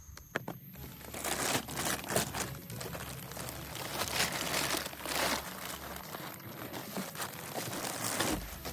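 Packaging for a Cobb intercooler for a Bronco Raptor being unboxed: close, quiet crinkling and crunching of plastic and paper with tearing bursts, continuous and irregular, no talk.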